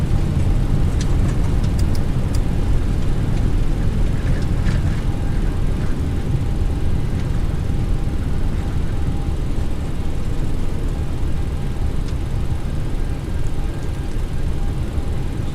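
A Boeing 737NG in X-Plane 11 rolls out after a hard landing with thrust reversers deployed, a steady loud roaring engine rush that holds for the whole stretch, with faint voices beneath.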